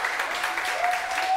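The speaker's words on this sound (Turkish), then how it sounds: "Bu alkışlar da sayın savcımıza o güzel." Studio audience applauding on a Turkish daytime TV talk show, a dense steady wash of clapping filling the whole moment, fairly loud and even with no voices on top.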